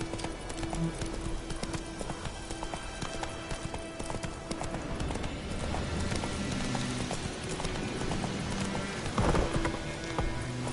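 A horse's hooves clip-clop steadily at a gallop in The Witcher 3: Wild Hunt on PS4 Pro. The close, rhythmic hoofbeats sit over a soft outdoor ambience.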